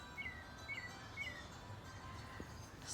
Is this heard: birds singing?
yes